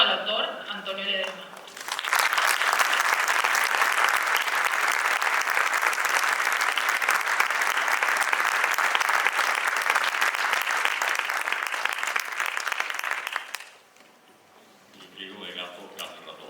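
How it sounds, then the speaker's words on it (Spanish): A large audience breaks into sustained, dense applause for an author at an evening book homage, loud and continuous for about twelve seconds, with talking before and after it. "Un cálido aplauso al autor Antonio Ledesma."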